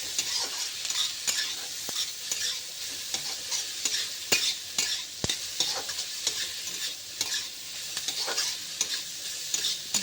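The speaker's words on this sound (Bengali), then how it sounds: "এটা আমি ভালো করে ভেজে নেব।" Food fries in a pan with salt and turmeric, a soft continuous sizzle broken by frequent scraping and clicking stirs of a utensil against the pan, close and moderately quiet, with no speech.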